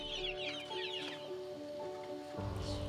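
Chickens cluck on a small family livestock farm near Kupang that also keeps cattle and pigs. The soft, repeated clucks come from a short distance and sit over quiet background sound.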